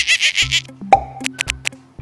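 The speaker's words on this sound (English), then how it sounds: "monkey," A monkey call sound effect gives a quick run of shrill, rhythmic chattering cries, followed by soft plopping musical tones.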